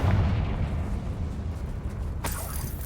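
A Confringo fire spell explodes in the Hogwarts Legacy video game, a sudden bright blast near the end that follows a rumbling, muffled in-game background.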